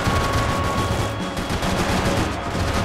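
Light machine gun fire in the video game Max Payne 3, a loud, continuous stream of rapid automatic shots with dense, steady rhythm throughout and no talk.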